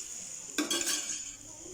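Spoon clinking against a metal pot as tamarind mixture is stirred into a Tamil-style fish curry, one short burst of scraping and clinks, moderately close and fairly quiet, with no talking.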